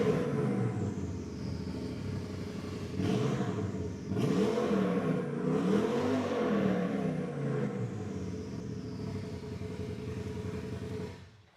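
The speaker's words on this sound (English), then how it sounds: "I don't know what it sounds like with the exhaust off." A crashed, totaled Honda Fit with its exhaust removed revs up, a raw, rumbling engine rising and falling through several throttle blips, close and loud, with no talk over it.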